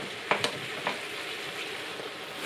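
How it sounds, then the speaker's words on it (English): Minced beef browning in a frying pan, a soft continuous sizzle with a few light knocks and scrapes as the meat is broken up. "Now add the minced beef and break that up and get it browned all over"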